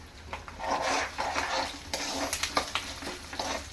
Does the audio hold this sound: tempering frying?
yes